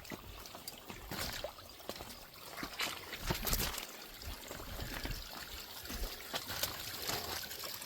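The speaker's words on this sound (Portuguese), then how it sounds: "E a água tá descendo." Water flows down a waterfall inside a dark, tunnel-like passage, giving a continuous rushing and trickling wash with irregular splashy surges at moderate distance.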